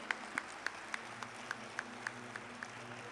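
An audience at a mushaira poetry gathering in a college claps in a steady, evenly spaced rhythm, with sharp regular beats over a low room hum.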